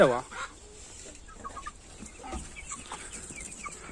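Green-legged Partridge chickens in their outdoor run, soft scattered clucks and short calls at a moderate distance over quiet background, opening with one louder call.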